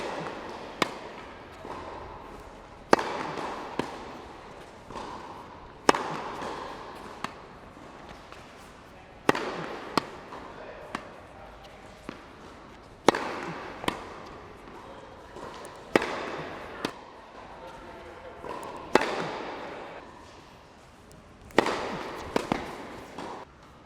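Repeated sharp tennis ball impacts off a Head Radical racket during overhead smashes, each hit a crisp thwack spaced a few seconds apart with court noise and faint voices between strikes.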